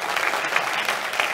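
Steady, dense audience applause fills the short stretch at a live Italian event on civic participation, a continuous wash of many hands with no voices above it.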